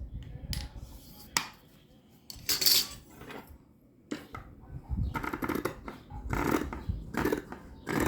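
Scissors trim excess fabric for a shapewear girdle, with several sharp close snips and clicks in irregular bursts separated by short quiet gaps, alongside light handling noise of the material.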